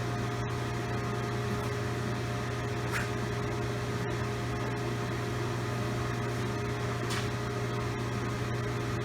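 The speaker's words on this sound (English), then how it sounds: "So let me go ahead and turn the pump on." A pump runs in a flow demonstration rig, a constant, even mechanical hum with a steady electrical drone and a couple of faint clicks, close and unbroken for about nine seconds.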